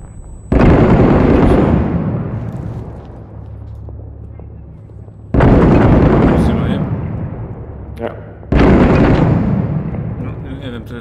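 Three loud, sudden blasts, each with a long decaying rumble, video-game explosions, grenade launcher fire and heavy gunfire in Six Days in Fallujah, with voices faintly underneath.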